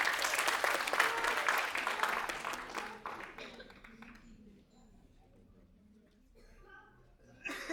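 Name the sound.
audience applause for the speaker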